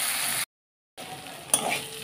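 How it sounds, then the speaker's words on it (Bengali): Rice is dry-fried and stirred in a kadai for murighonto, giving a close, steady sizzling hiss. A brief full silence breaks it, then it resumes with a sharp scrape of stirring. "চালটা কিন্তু ভালো করে একটু ভেজে নিতে হবে"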